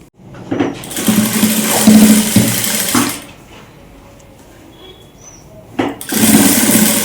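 A sewing machine stitches piping onto a blouse, running in two loud bursts of roughly three seconds and one second with a quieter pause between them.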